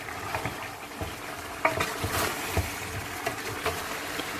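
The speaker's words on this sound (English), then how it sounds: "So you're going to fry that for a few minutes" Chicken frying in a pan with Nihari spices makes a soft, low sizzle with light stirring taps, fairly quiet and steady.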